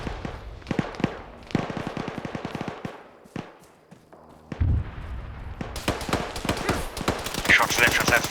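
Rapid machine gun bursts in a military shooter game, sharp repeated cracks in quick strings, then a fuller, louder barrage of overlapping fire near the end, with voices speaking over the gunfire.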